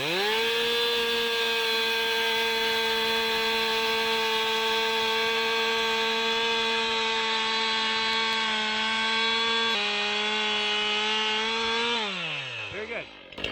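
A chainsaw held at steady high revs cuts through wood outdoors along a forest road, a loud continuous buzzing drone that drops slightly near the end, then winds down as the throttle is released.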